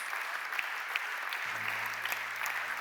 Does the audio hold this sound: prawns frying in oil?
no